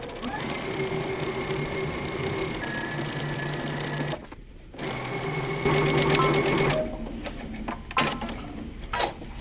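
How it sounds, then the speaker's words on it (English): Sewing machine stitching a skirt side seam from the hem, running in steady bursts with a short pause midway and a few start-stop stitches near the end, close and fairly loud. "we're going to sew our side seam together"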